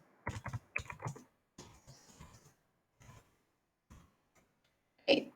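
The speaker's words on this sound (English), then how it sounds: "or type in the name" A name is typed on a computer keyboard in short bursts of close key clicks with pauses between them, quiet and alone, ending in a louder clack.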